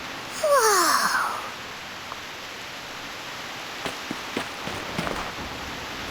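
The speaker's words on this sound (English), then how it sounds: "What a heavy rain outside!" Steady, even hiss of heavy rain falling outside in the game Reverse: 1999, with brief swooping magical tones at the start and scattered faint patters later.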